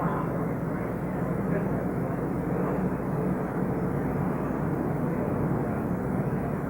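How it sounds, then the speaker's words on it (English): A fixed-wing airplane passes over an outdoor beep baseball championship game in 1983, its steady broadband engine roar filling the whole stretch at a constant level as a voice talks over it. "And there goes another airplane."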